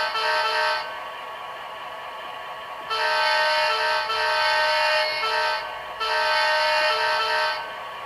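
Leslie S2 horn on a Rapido HO scale New Haven FL9 model locomotive, three loud chord blasts of steady tone, the first short and the next two longer, with brief gaps between them and no voice.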